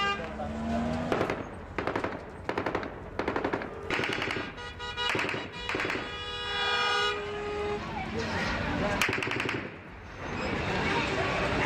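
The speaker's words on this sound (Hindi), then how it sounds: "अब एक और वीडियो सामने आया जिसमें फायरिंग हो रही है" Rapid bursts of automatic gunfire crackle loudly at Kabul Airport amid chaos, repeated volleys separated by short gaps, with a steady background roar and faint voices underneath.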